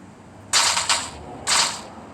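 Pink dragon fruit power firing shots in a video game, heard as two bright, loud hissing blasts, each about half a second long, with a short gap between them and no talk over them.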